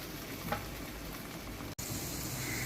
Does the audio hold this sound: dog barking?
no